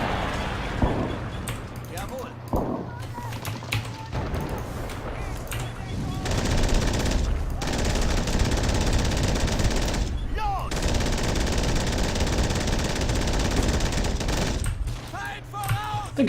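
Bursts of .50 caliber machine gun fire from a quad-mounted vehicle in the World War II game Men of War, long rapid loud rattles broken by short pauses, with someone talking over parts of it.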